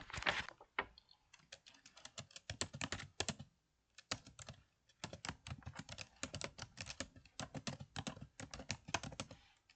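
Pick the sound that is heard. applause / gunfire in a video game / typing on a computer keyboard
typing on a computer keyboard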